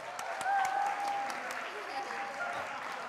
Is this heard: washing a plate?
no